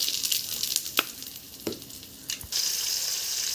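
Mustard seeds and dried red chillies fry in hot oil for a field bean poriyal, giving a continuous close sizzle broken by a few sharp pops and crackles. No voices are heard.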